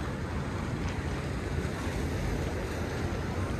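Ocean waves and surf roll in at Waikiki beach in Hawaii on a clear day, a continuous broad wash mixed with wind buffeting the microphone, with no talking.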